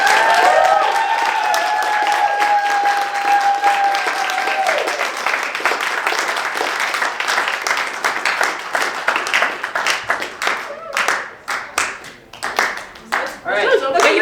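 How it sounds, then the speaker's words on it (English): A live show audience gives a group member a farewell round of applause: loud, dense clapping and cheering at first, thinning into scattered individual claps toward the end, with voices heard early on. "One more round of applause for George."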